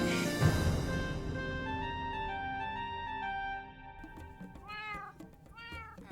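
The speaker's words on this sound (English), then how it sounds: "Cats. It had to be cats." Cats meow in a modded Minecraft roleplay game: a couple of short, rising, whiny meows come near the end, close and clear over a busy sustained musical background.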